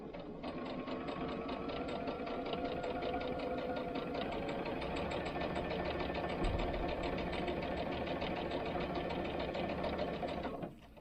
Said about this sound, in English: I've got my machine set on the straight stitch, and I've got mine at a very scant 1/4. So just sew that scant 1/4.